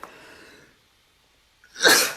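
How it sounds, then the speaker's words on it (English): A single sharp sneeze bursts out after a brief quiet moment, close and fairly loud. "Can you believe I just sneezed?"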